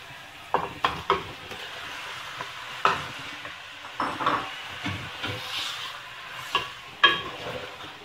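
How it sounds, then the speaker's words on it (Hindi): Chicken and fried garlic cooking in a pan for a Punjabi chicken gravy, giving a steady sizzle with repeated stirring scrapes and clanks against the pan and no talk. "अब हम इसमें चिकन डालेंगे।"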